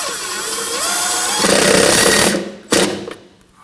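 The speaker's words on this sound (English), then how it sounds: "use a washer and a self-tapper to re-secure this" A power driver runs a self-tapping screw with a washer into the front inner fender liner of a Ford Edge, giving a close, loud whirring buzz that ends abruptly, followed by one short, sharp burst.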